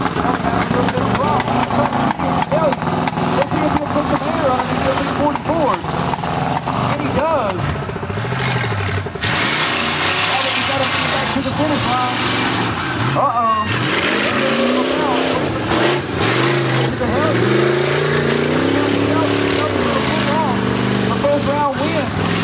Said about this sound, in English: Ryan on Shelby, that white Ford. First one back to the finish line is the winner